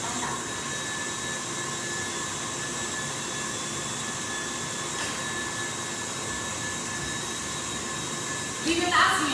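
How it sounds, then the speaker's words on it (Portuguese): An electric stand mixer beating macaron batter at high speed, a steady loud whirring drone that runs the full length with little change, swelling slightly at the very end. "Então, enquanto vocês me escutam, quando a batedeira tá ligada?"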